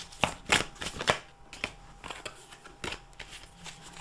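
Large tarot cards are shuffled by hand in a run of close, crisp riffles and slaps, several quick bursts followed by softer, irregular flicks.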